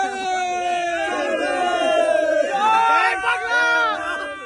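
Excited crowd at a beach barbecue party, a dense mass of overlapping cheering and shouting voices, loud and sustained throughout with whoops rising above the babble.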